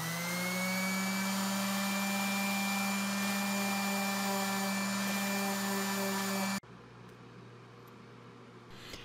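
A hole saw cuts a 3 inch disc from a 3/8 inch thick piece of walnut, giving a steady, loud, high-pitched whining drone that runs continuously, then stops abruptly and leaves a quieter background hum.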